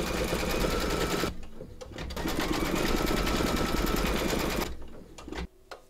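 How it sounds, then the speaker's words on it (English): A computerized embroidery machine stitches an eye detail with green thread, a steady loud rapid whirring chatter that stops briefly partway, then resumes before cutting out near the end. "Load your thread colour for the colour of the eyes into your machine and then stitch round number six"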